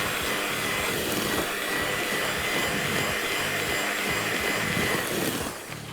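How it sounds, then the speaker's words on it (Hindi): Electric hand beater running steadily while mixing crumbly chocolate biscuit dough in a home bakery kitchen, a loud continuous motor whine with grinding texture throughout, easing off at the very end. "ये हमारा जो बेचारा बीटर है ना, हमेशा कभी कोई काम करना बंद कर देता है।"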